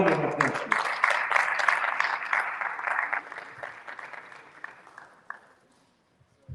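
An audience at a tech bootcamp event in Lagos applauds, dense clapping that starts loud under a voice and gradually fades away to near silence.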